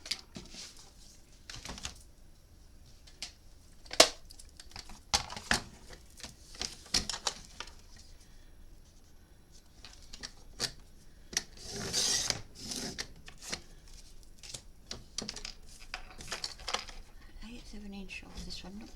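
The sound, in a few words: trimming paper for a memory book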